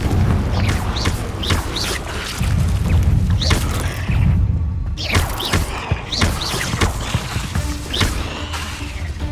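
Confringo fire spell blasts from Hogwarts Legacy, set inside a cave, with a steady, loud low rumble and repeated crackling bursts and thuds across the whole stretch, mixed with game ambience.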